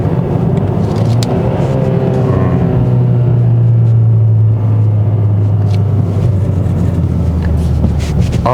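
A 2021 Hyundai Sonata N Line driven in Sport mode on a winding road, with a loud, steady engine drone and low road rumble that rises in pitch mid-drive and holds, a voice faintly underneath.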